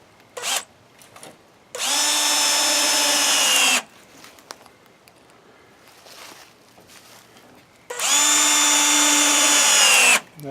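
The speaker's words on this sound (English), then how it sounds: "And we'll put in a bunch of these screws, make it so that it's strong again." A power drill drives screws into a wooden shed door in two loud, sustained bursts of about two seconds each, separated by quiet pauses and short clicks.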